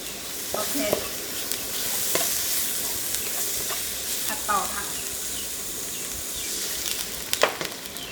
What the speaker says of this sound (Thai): ผัดเนื้อหมูกับพริกแกงให้เข้ากันนะคะ